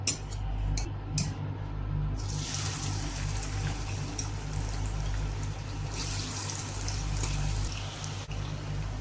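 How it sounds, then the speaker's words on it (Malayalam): Masala-coated fish sizzling in hot coconut oil, a steady loud hiss that surges as the pieces go in after a few clicks, continuing close and unbroken with no talk. "അതിലേക്ക് നമ്മൾ മസാല പുരട്ടി വെച്ച ഫിഷ് ഇട്ട് കൊടുക്കാം."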